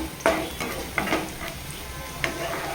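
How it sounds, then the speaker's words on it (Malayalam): Curry leaves frying in hot oil in a pan: a soft, steady sizzle broken by several sharp clinks as the mixture is stirred, close up and with no voices. "നമുക്കിതിലേക്ക് വേപ്പില ഇട്ട് കൊടുക്കാം ചെറിയൊരു ബ്രൗൺ നിറമാകുന്ന വരെ നമുക്കൊന്ന് മൂപ്പിച്ചെടുക്കാം"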